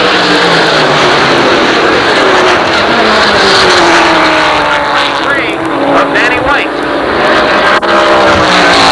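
Late model race cars roar around Jennerstown Speedway in a 1988 feature race, a loud continuous engine drone with cars passing and shifting pitch, under an announcer's steady commentary.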